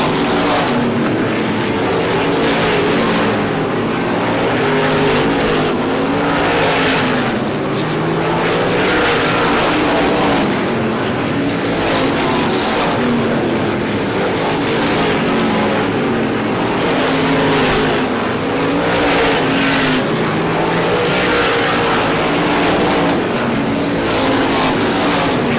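Supermodified race cars from the International Supermodified Association roar around the Star Speedway oval, engines droning loud and steady, with waves of rising and falling pitch as the pack passes through the turns, and no voices.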